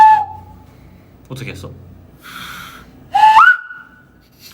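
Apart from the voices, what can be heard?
whistling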